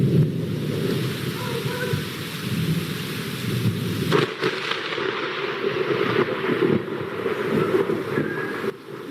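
Steady rain hisses throughout, with a dull rumble of thunder beneath and a sharper burst partway through, heavy and continuous.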